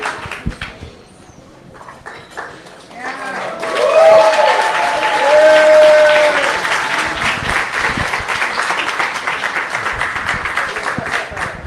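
Audience applause at a bookstore-café author talk swells after a few quiet seconds into steady, sustained clapping from a sizable crowd, with a brief whistle-like tone near the start and lingering claps to the end.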